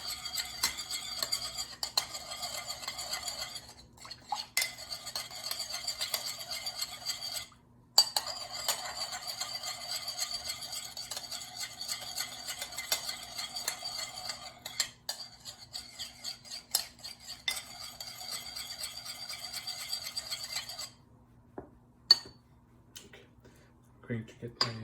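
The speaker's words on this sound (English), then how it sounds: "I'm going to mix things together" Kale salad ingredients with Dijon mustard are mixed in a bowl: a steady run of scraping, clinking utensil strokes against the dish, pausing briefly and then resuming, with a quiet low hum beneath and a few louder clinks near the end.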